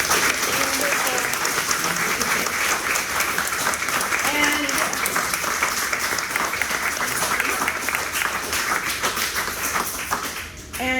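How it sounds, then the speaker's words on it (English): An audience at an artist conversation event gives a steady, full round of applause, dense clapping holding at an even level for about ten seconds before fading out. "A round of applause."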